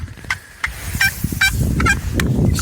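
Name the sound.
wild turkeys gobbling in the distance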